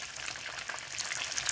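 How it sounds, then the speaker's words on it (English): Chicken pieces frying in a pot give off a steady, dense crackle and sizzle of hot oil, close and even throughout. "Some pieces of chicken frying here."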